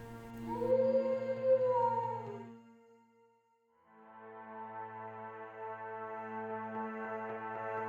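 A long, mournful wolf howl rises and falls, fades briefly, then a second sustained howl follows, eerie and echoing with no talking.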